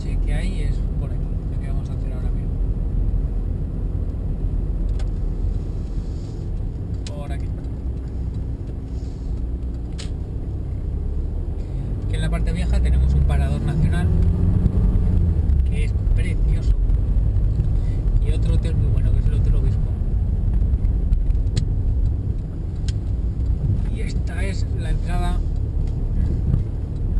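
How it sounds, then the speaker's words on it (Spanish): A car engine rumbles steadily from inside the vehicle as it drives into the old town of Hondarribia, with road noise swelling midway, while people talk over it throughout. "Pero bueno, nosotros vamos a entrar en coche."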